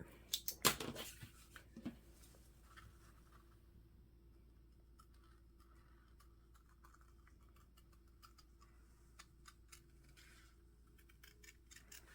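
Scissors cutting out a traced fabric lining pattern make a few close snips early on, then go quiet, leaving light clicks and rustles under low room hiss.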